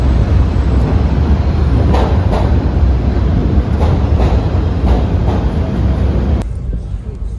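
New York City subway train in motion, a loud continuous rumble with rhythmic rail clacks and rattling, ending in a brief drop as the car's noise shifts, no clear talk over it.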